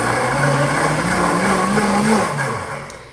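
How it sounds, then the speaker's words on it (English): A cooking blender running its blend cycle, a loud close motor whine that rises slightly in pitch, holds, then winds down near the end, with no talk. "Because this is a true cooking blender, I'll wait till it finishes this little series."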